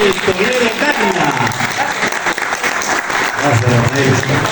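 An audience at a book presentation applauds Rafael Toledo Cárdenas, a dense, sustained round of clapping that fills the room throughout, with crowd voices mixed in.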